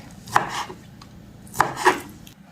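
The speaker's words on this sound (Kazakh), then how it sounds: "Тауық етін төртбұрыштап турап болдық." A knife strikes a cutting board in a few sharp, separate chops while cutting raw chicken into cubes in a home kitchen, close and clear with pauses between strokes; no voices.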